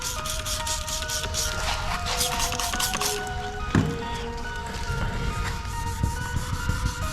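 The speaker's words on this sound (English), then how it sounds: "Wet sanding is not really what I wanted to do for the day" Steady rubbing scrape of light-pressure wet sanding on a car panel in a garage, continuous and fairly loud across the whole stretch with a brief knock partway through.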